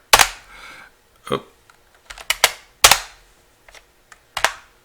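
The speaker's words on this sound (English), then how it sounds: "I type in 3, press enter." Keys on a retro IBM 3270 mainframe terminal keyboard are pressed, ending with the Enter key: a handful of loud, sharp mechanical clacks in uneven bursts with quiet gaps between them, close to the mic.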